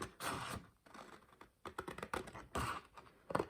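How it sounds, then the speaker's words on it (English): Scissors cut paper around the edge of an envelope in quiet, close bursts of crisp snipping and rustling, with short pauses between the strokes. "So just go round with your scissors, following the line of your envelope."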